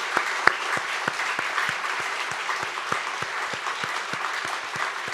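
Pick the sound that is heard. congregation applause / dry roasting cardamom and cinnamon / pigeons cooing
congregation applause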